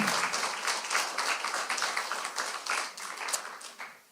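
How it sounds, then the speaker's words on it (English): A smaller audience at a church Bible quiz event claps in a round of applause, individual hand claps audible in a quick uneven patter that tapers off near the end. "so give them a round of applause."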